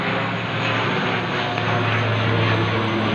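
A steady, broad aircraft engine drone of planes passing overhead, loud and unbroken for a few seconds, with a low rumbling hum.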